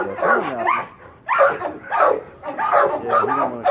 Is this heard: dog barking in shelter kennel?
yes